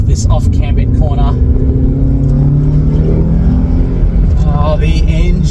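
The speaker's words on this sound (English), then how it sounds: "Oh, the engine sounds amazing." A Toyota Altezza engine with a lightweight flywheel drones loudly from inside the cabin on a test drive, its pitch rising and falling steadily as it revs, while someone talks over it.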